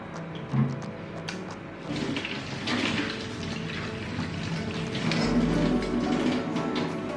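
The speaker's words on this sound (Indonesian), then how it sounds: "Kita tiriskan sambil digoyang-goyang gini, atau agak dilempar-lempar sedikit juga boleh" Indomie instant noodles drained in a strainer and shaken, giving a steady wash of dripping, splashing water with brief clatters, close and alone.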